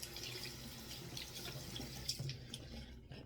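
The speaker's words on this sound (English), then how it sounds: "Actually, I need to rinse my hands off." Water runs steadily from a tap as hands are rinsed beneath it, a continuous close splashing hiss that eases off near the end.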